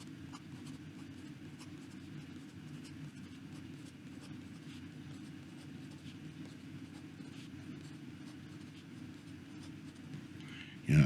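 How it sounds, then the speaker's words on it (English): A Pilot E95s fountain pen writes fast across paper, a continuous close scratching and rustle of quick strokes that runs steadily before a brief louder bump at the end. "And about fast writing."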